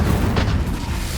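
A booming burst of flame from the Incendio spell in Hogwarts Legacy: a heavy, low rumble with a brief bright flare near the start, loud and close, with no talking.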